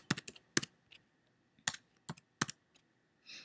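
Light, quick keystrokes on a computer keyboard while typing a layer name in After Effects: scattered clicks in small clusters with short pauses, quiet and close, no talking.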